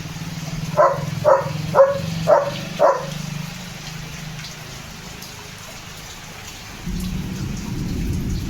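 Steady rain hisses throughout and swells louder near the end, while a nearby dog barks five times in quick succession early on.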